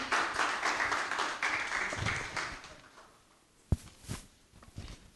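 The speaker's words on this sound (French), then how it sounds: "on applaudit" Audience applause at an awards ceremony, a loud wash of clapping that fades out, followed by a few sharp isolated taps and claps in the quieter room.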